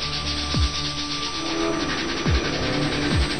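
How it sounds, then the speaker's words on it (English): 300-grit sandpaper rubs across the plastic of a Nerf blaster in close, steady strokes. A gritty, hissing scrape repeats with a few sharper passes, loud and alone. "I'm only going to sand this area so that we can compare"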